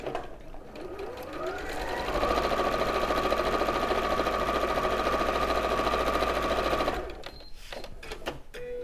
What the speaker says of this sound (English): So it's that bold solid line in the centre there that I'm going to sew.